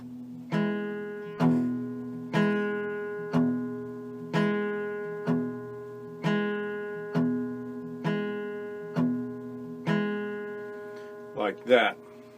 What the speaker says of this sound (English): So just the alternating bass is going to sound like this.